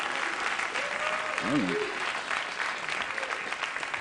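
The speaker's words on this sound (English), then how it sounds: "I don't understand why they applauded either." A late-night talk show studio audience applauds in a steady, dense wash of clapping that runs the whole stretch, with a voice talking over it.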